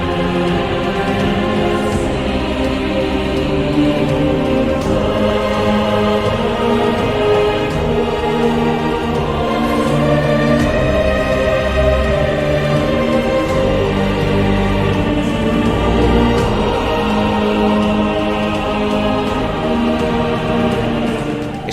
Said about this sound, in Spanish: Es el himno del Benidorm Fest, que suena así muy solemne